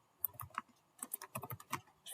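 Keys clatter on a computer keyboard during a Databricks session, in short irregular bursts of close, crisp clicks separated by brief pauses.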